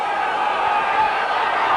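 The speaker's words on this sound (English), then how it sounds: "The crowd trying to get behind the home side." Rugby league crowd at Wigan in 1991 roaring steadily behind the home side during a Great Britain versus France under-21 match, a dense, continuous wash of voices with no breaks.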